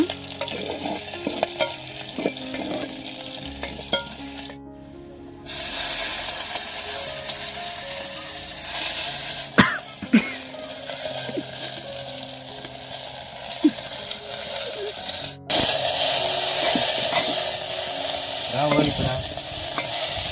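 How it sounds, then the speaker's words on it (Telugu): A spice tempering for a wild forest flower curry fries and is stirred in a pan, with continuous loud sizzling and repeated scraping strokes, close up and with no talk. "ఇప్పుడు తాలింపు అయితే పెట్టేసుకున్నాను"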